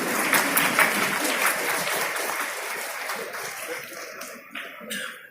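Audience applause at a Jharkhand government ceremony marking three years of the state government, loud and steady broadband clapping that thins and fades toward the end.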